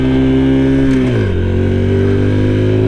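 Honda Super Cub C125 motorcycle engine while riding, a steady close drone whose pitch drops partway through as the revs fall, then settles into an even lower hum.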